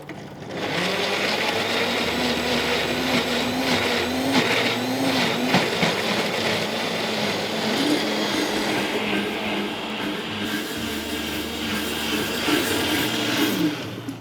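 A blender whirs steadily for about fourteen seconds, close and loud with no break, as it purées a sauce of oil and liquid from tinned peppers for a rabbit dish.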